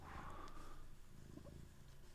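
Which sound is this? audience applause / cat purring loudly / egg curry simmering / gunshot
cat purring loudly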